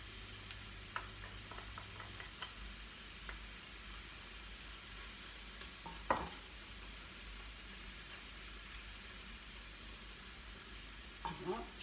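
Tomato paste stirred into steamed green beans for an Algerian-style tajine, a faint continuous sizzle and frying hiss in the pan, with occasional clinks and scrapes of a utensil against it.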